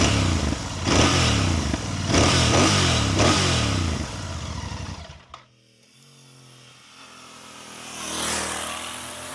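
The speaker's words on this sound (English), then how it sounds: "It not only sounds louder than the Interceptor, but it also has a more sporty growl" Royal Enfield Bear 650 motorcycle engine growling through several rhythmic revs, loud and close, then cutting off abruptly to a low idle before a faint rise as the bike pulls away.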